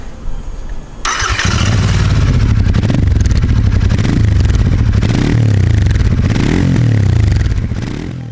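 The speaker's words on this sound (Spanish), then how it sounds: "Incluso cuando arrancas la moto tiene un sonido muy clasicote" A 2021 Royal Enfield Interceptor motorcycle engine cranks with a brief clatter, then catches and settles into a loud, deep, steady idle close by.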